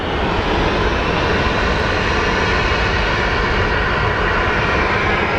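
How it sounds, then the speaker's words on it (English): A Breeze Airlines Embraer jet at Phoenix Sky Harbor airport gives off a constant, heavy roar that stays steady and fairly close the whole time. "And over there is the Breeze Airlines Embraer."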